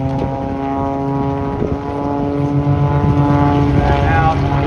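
Propeller aerobatic aircraft performing at an air show in the Barossa: a loud, droning engine with strong steady harmonics that shift in pitch as it maneuvers, heard under a commentator's voice.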